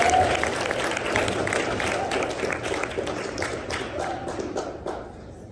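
A crowd at a spelling bee claps for the spellers, a dense and steady patter of applause that tapers off toward the end.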